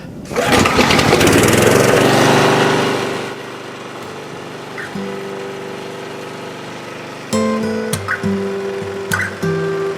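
A lawn mower engine starts and runs on a test run after an O-ring repair, loud and steady at first, then settling to a quieter idle with brief revs and sputters.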